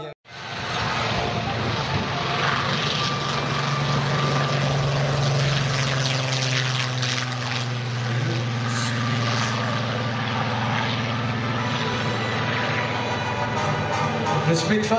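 A P-51 propeller plane drones steadily and loudly at the La Ferté-Alais air show for the whole stretch, its engine note holding a low, even hum with a rough buzzing edge.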